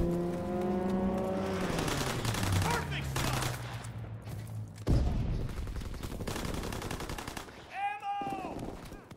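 Suppressing gunfire in Call of Duty WWII, dense rapid machine-gun bursts and rattling shots mixed with engine roar and a sharp blast midway, loud and continuous, with a voice briefly heard.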